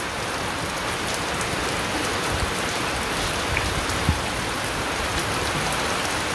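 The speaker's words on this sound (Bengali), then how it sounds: "ঝড় বৃষ্টি নিম্নচাপ শুরু হয়ে গেছে।" A storm brings a steady downpour. Dense rain patters and hisses on surfaces close by, with a few louder individual drops standing out against the constant wash.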